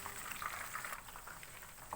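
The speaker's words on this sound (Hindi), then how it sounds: "ये देखिए हमारी चिकन फ्राई हो गई है।" Chicken pieces frying in hot oil for chilli chicken, a steady close sizzle and crackle with soft bubbling pops, continuous and fairly quiet with no talking.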